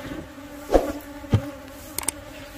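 Honeybees around a beehive, a steady low buzzing hum with a few louder passes near the microphone and a couple of small clicks, no talk.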